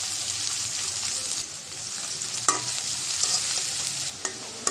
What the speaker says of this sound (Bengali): দিয়ে দিলাম তেল, পেঁয়াজ কুচি, পেঁয়াজটা হালকা করে ভেজে নেব